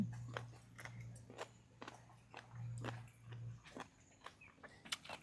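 Someone chews crunchy giant jellyfish doused in seafood dipping sauce, close and quiet, with a series of crisp bites and crunches over a low background hum.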